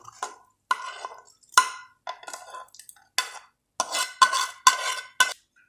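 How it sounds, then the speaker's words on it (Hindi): Sarson ka saag getting its hot tempering (bhagar) poured in from a pan, heard as a string of short clinks, scrapes and sizzling bursts of metal cookware, close and fairly quiet, with no talking. "देखिए हम भगार इसके अंदर डाल रहे हैं।"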